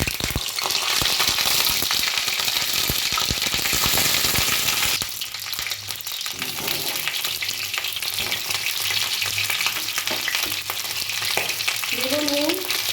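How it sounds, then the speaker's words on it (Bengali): Cauliflower pieces fry in hot oil in a kadai, a loud, continuous close-up sizzle that crackles strongly, then eases as the pieces settle, with stirring scrapes near the end. "প্রথমে আমি ফুলকপিগুলো ভেজে নেব।"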